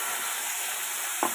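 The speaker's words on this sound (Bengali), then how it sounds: "মশলাটা একটু আমি ভাজা ভাজা করে নিয়েছি।" Ground ginger, cumin and dried chilli paste frying in hot oil in a pan, a steady close sizzle throughout, with a brief stir or clatter near the end.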